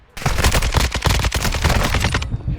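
Loud, rapid automatic gunfire from a video game weapon fitted with an anti-recoil setting, a continuous burst of close, punchy shots lasting about two seconds before cutting off.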